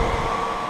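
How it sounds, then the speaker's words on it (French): The radiator fan of a Renault Super 5 1.1 Turbo, forced on, gives a steady close whir with a constant tonal hum and broadband airflow rush, brief and unbroken, with no talking. "j'ai mis le ventilo en marche forcée là."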